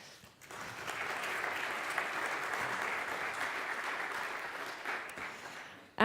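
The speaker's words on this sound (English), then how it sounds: "let's give our first speaker a hearty round of applause" An audience claps loudly and steadily for several seconds, a dense wash of applause that fades toward the end.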